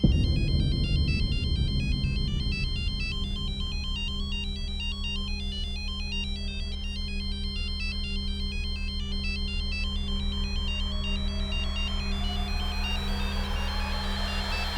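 A mobile phone ringtone plays a repeating electronic melody loudly and continuously for the whole stretch, indoors in a household, with no one speaking over it.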